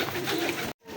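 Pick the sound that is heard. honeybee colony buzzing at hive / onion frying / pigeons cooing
pigeons cooing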